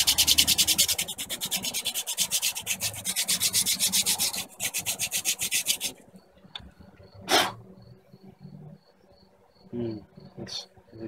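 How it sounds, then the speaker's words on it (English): Sandpaper of 180 grit rubbed briskly over a slightly oily engine part from a 1973 Gravely C8 tractor, a fast back-and-forth rasp for about six seconds, then stopping and leaving faint clicks and light handling noises. "Breeze over it with this 180 grit."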